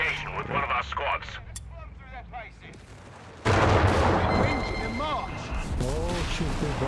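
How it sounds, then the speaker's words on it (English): Explosive bombing and artillery-style blasts in Company of Heroes 3 during a 4v4 match, a sudden loud broadband crash midway that continues as sustained rumbling, with speech heard over the battle throughout. "Oh shoot, they're bombing there."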